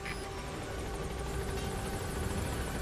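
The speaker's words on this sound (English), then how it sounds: "so I'm just gonna get in a helicopter." A helicopter in the video game Marvel Rivals: steady rotor drone fills the scene, a constant mechanical hum at moderate distance with no voices.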